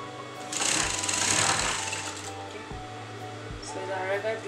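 A sewing machine stitches a designer blouse in a fast, whirring run that slows and stops in short bursts, close by, with someone talking in between.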